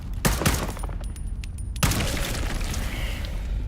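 Sniper fire in the video game ITR2 arrives as loud, sharp shots, with two or three close cracks early and another heavy blast near the middle, each trailing off in a rumbling echo.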